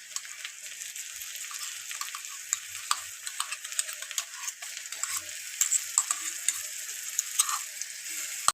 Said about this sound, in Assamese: সিফালে এতিয়া পিঁয়াজ দিলোঁ